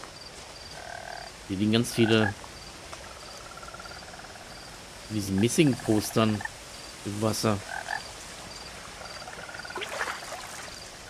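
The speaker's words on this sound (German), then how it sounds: "Hier sind immer Frösche." Frogs croak at a pond in the video game What Remains of Edith Finch, in three short rhythmic bursts under someone talking, with a steady insect-like hum in the background.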